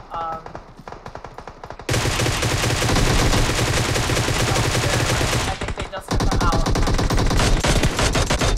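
M4 rifle spraying in a multiplayer shooter, with sustained, dense automatic bursts that run for several seconds, pause briefly, then resume, while a caster talks over the action.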